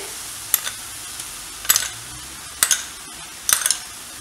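Tomato puree being stirred into a veggie stromboli filling with black pepper, oregano and Italian seasoning, heard as four scraping, clicking bursts of a spoon against the pan, spaced about a second apart, with quiet gaps between.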